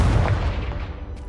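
A Bombarda or Confringo spell explodes in a Harry Potter video game, a loud, deep blast that booms up front and then decays in a rumbling tail.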